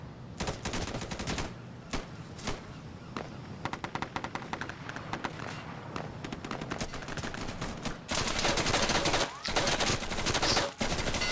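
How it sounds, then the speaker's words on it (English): Sustained gunfire in the video game Insurgency: dense, rapid automatic bursts and single shots crackle almost without pause, loud and close, with heavier sustained firing near the end. "a lot of the firing in this game, the guns, they feel very authentic and the recoil is very much there"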